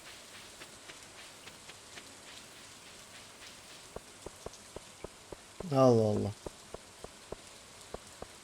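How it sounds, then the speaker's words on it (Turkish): Steady rain in the video game Stardew Valley patters softly throughout, with regular ticking clicks and a brief louder swell of a voice or tone partway through. "Yağmur kesin yağıyor"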